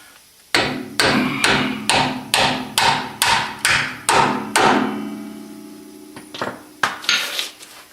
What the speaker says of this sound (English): Okay, got a hammer.